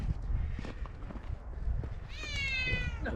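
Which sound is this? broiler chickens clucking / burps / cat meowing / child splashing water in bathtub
cat meowing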